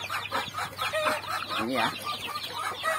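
Mother hen with her 10-day-old chicks, close rapid clucking and soft chick peeps throughout, with a brief spoken word over them.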